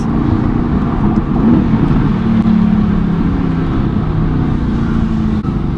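Mercedes-AMG GT C coupe driving on the road, its exhaust heard from inside as a steady loud engine drone with faint pops and crackles on gear shifts, constant throughout with no talking.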